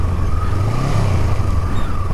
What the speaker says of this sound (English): I'm having some problems with this gear shifter on here.